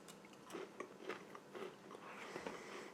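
Crunchy biting and chewing of an unsalted wheat cracker from a military MRE ration, with a series of close, crisp bites and chews spread evenly through the clip and no talking.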